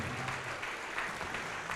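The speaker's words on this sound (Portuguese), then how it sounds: "Vamos aplaudir ao nome de Jesus." A church congregation applauds together in a dense, steady burst of clapping that fills the short moment, with no talk over it.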